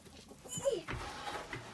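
Farm chickens clucking close by, a few short uneven clucks over a quiet yard background.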